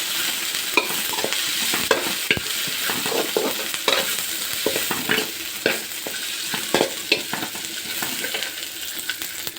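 Byadagi chillies and garlic fry in hot oil for a karave leaf chutney, a close dense sizzle with frequent scraping and tapping from a spoon stirring the pan, no voices.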